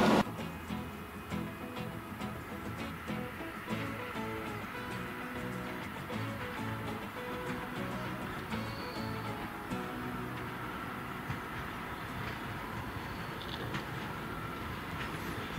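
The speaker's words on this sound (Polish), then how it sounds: "Z peronu drugiego odjeżdża kibelek w malowaniu kolei dolnośląskich" An electric multiple unit train in Koleje Dolnośląskie livery pulls away from platform two at Tychy station, with a steady rumble and faint rolling clatter that holds evenly throughout, heard from the platform.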